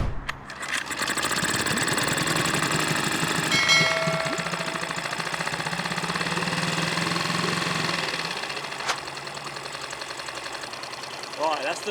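A freshly serviced outboard boat engine, clamped in a water-filled barrel, catches and runs at a steady, buzzing idle for several seconds before easing down; a loud, close mechanical rattle fills the whole stretch.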